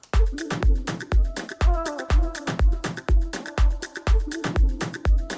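A punchy four-on-the-floor Afro house beat with bright hats, overlaid by short chopped vocal snippets with wavering pitch.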